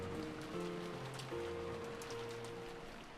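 Rain and wind sound effect in an Umineko visual novel scene, a steady rushing patter of rain on surfaces beneath faint sustained background music tones, with no talk.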